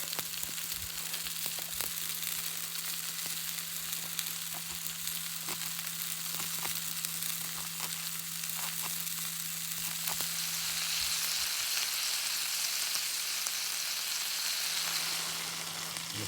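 Fresh garden parsley sizzles in a pan over a camp stove in a forest, a steady close frying crackle that runs throughout with no talk.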